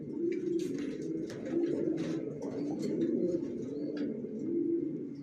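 Racer pigeon chicks coo softly in repeated low, throaty phrases at close range, with faint chirps and rustling above.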